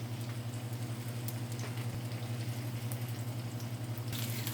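Onions sautéing in a pan with garlic pepper, a steady low sizzle and faint crackle holding evenly throughout with no talking.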